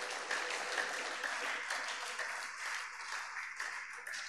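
A church congregation claps and cheers in praise, a steady wash of applause throughout, fairly distant and even in level.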